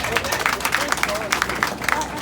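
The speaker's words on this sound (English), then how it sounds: "Can we clap for our mommy?" Guests clap for the bride's mother at a Nigerian Igbo and Edo traditional marriage introduction in Texas, a steady patter of many hands under crowd chatter and voices.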